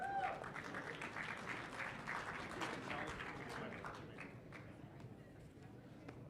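Faint, steady applause from an audience at a ringman competition and auction event, a dense patter of clapping heard from a distance that continues evenly throughout.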